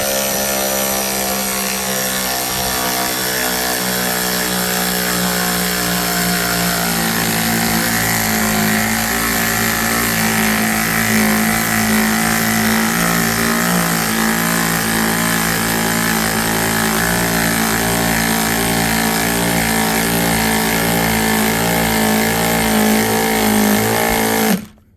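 Snap-on 3/8 inch 14.4V high torque cordless ratchet running continuously, a loud, steady whirring motor drone that shifts pitch slightly partway through and cuts off at the end.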